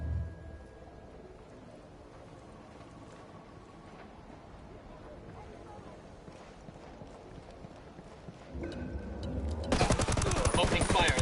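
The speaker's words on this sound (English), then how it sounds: "Opening fire on these fuckers" Gunfire in Ghost Recon Wildlands: after a stretch of low game ambience and rattling, bursts of automatic weapon fire erupt loud and dense near the end.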